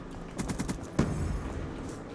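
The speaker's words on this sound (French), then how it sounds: "Y'a ma tourelle qui tire chez nous" Rapid burst of automatic turret gunfire in a multiplayer shooter video game, a quick run of sharp shots followed by a louder single crack, heard alone without talk.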